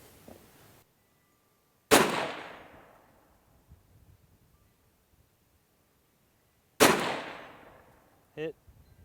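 Two sharp pistol shots fired at a 100-yard target on an outdoor range, each a loud crack with a ringing decay several seconds apart, followed by a brief voice.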